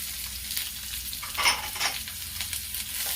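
Onions sizzle in a hot pan while cooking urad dal in the Gurudwara langar style, a loud, steady frying hiss that swells as they go in, with light stirring and no talk.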